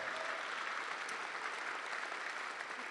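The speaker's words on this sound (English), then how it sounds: "Can we give a big round of applause for all of our partners that are involved?" A conference audience at a startup event in Europe applauds partners with steady, sustained clapping that fills the room at even loudness.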